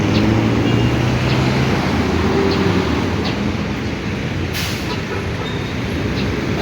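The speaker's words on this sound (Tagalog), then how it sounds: "Diba mga guys, so, dami mga sasakyan." A steady roar of traffic rumbles nearby outside a Wendy's near a Puregold store, vehicles droning past continuously with a faint click or two on top.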